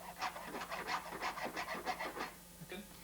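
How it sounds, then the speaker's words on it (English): Rhythmic rasping strokes of a hacksaw blade trimming excess rubber on a pool table, about a dozen quick close back-and-forth cuts before a short pause. "I find it probably easier using a hacksaw blade"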